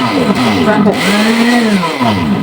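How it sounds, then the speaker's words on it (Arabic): An electric blender whirs steadily, mixing cake batter, its motor pitch rising and falling as it mixes, with a voice talking over it. "وهاجي بقى ضربها تاني ضربه بالخلاط."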